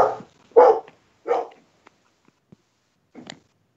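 A guide dog gives three short barks close by, well spaced, followed by a few faint knocks and a softer final yelp, with no talk over it.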